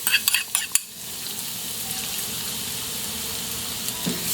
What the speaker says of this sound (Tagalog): Next step po natin, mag-isa na tayo ng bawang.